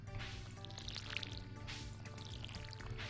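Watering crops with a watering can in the farming game Stardew Valley, a steady game sound of pouring and splashing water over soft background music.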